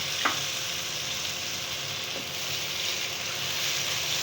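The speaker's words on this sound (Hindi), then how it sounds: "अब इनको हल्का सा भूनेंगे" Green chillies and ginger sauté in a pan for a mooli palak sabzi, giving a steady, close frying hiss with a couple of faint stirring taps and no talking.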